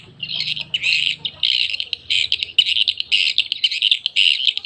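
Recorded swiftlet lure call played back: dense, continuous high-pitched chirping and squawking trills in rapid bursts, loud and close, with a faint low hum beneath during the opening second.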